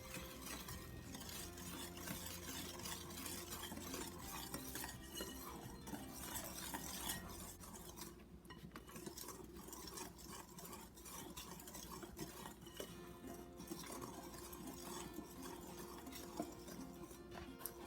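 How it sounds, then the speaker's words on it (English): Dry ingredients are whisked into wet cranberry orange muffin batter in a bowl, a continuous rhythmic clicking and scraping of the whisk, close and quiet, running steadily on its own with no one talking. "And continue whisking until they're well incorporated."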